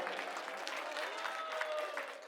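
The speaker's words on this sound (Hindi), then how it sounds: "इसके लिए ताली बजा दो एक बार।" Crowd applause at an Aam Aadmi Party political rally in Janakpuri, a steady wash of clapping from a gathered audience, moderately distant and continuous throughout.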